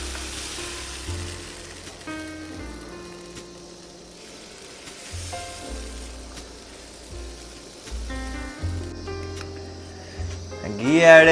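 Dosa batter sizzling on a hot pan in a bachelor room kitchen gives a soft, continuous hiss, with a person talking at intervals over it and a brief clatter near the end.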